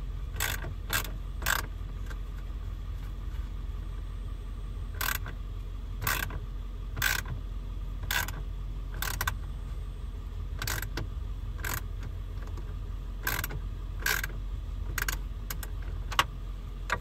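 A socket wrench ratchets in short, sharp clicking bursts at irregular intervals while dash gauges are installed in a car, close and fairly quiet with no talking.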